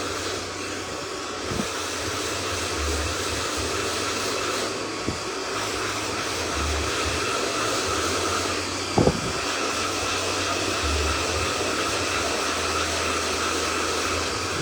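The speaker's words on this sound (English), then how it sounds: "Moving the blow dryer back and forth rather than just holding it so steady on the hair" A hair blow dryer runs steadily throughout, a constant loud whoosh and hum during a layered haircut, with a few brief clicks and bumps over the drone.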